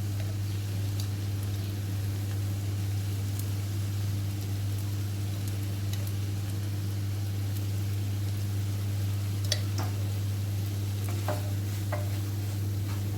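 Homemade masala pasta with Schezwan sauce and tomato ketchup is stirred in a pan, giving a soft, steady sizzle with faint scraping clicks over a constant low hum.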